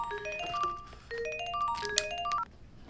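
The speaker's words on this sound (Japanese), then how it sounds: "おい、携帯鳴ってるぞ。" A mobile phone ringtone plays a short, bright electronic melody of quick rising and falling notes, fairly faint and heard alone over light background noise.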